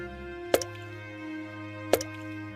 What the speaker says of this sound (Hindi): उनकी छत जगह जगह से टपकने लगती है।